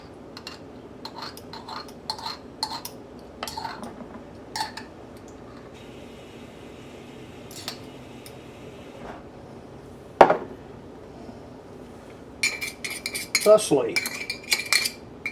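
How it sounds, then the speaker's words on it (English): Honey and mustard mixed together in a bowl: a utensil clinks and scrapes against the dish in irregular bursts, with one sharp knock midway and a busier flurry of clatter near the end. A single brief spoken word. "Mix them together thoroughly."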